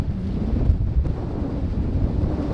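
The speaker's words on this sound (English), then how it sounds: "It is way too fucking windy." Strong wind buffeting an outdoor microphone, a dense low roar with gusty surges, steady for a few seconds with no voices.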